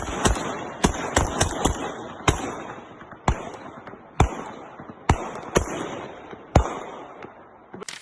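Sharp, separate gunshots crack out at irregular intervals at a drone, about a dozen in all, loud and echoing, with no voices.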